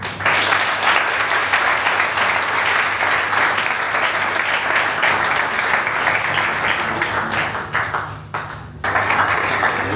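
Guests at an official civil wedding ceremony in Pointe-Noire break into sustained, dense applause, a roomful of hands clapping steadily for several seconds with a brief dip near the end.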